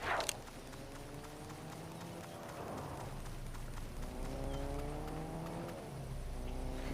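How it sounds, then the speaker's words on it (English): A car drives around in Fortnite, its engine revving up and down in rising sweeps at a moderate distance, with a brief bang at the start. "We're hearing a car driving around."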